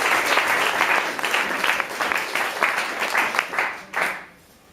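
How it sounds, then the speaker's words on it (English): Wedding guests at a reception giving the caterers a warm round of applause, a full, busy patter of many hands clapping that swells, then dies away quickly in the final half second. "so just give them a round of applause"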